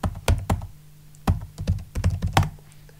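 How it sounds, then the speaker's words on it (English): A computer keyboard is used to type a password at an Ubuntu Server prompt, a quick irregular run of crisp close key clicks in small clusters with brief pauses, heard alone without talk. "now I have to type the password"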